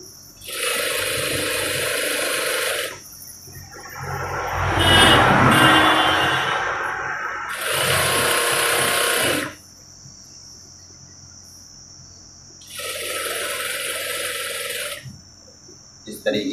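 Sewing machine stitching a fabric pillow cover, running in three bursts of steady high-speed whirring with quiet pauses between, close by, with fabric handling noise in one gap.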